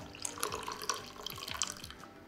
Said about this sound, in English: press the plunger down and then pour it into your mug or heat-proof glass